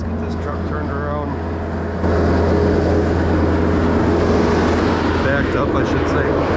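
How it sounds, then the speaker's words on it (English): Diesel engine of a fully mechanical dump truck idling and then revving louder as it turns around while hauling out broken driveway, a steady low rumble close by with no speech over it. "Let's get this truck turned around."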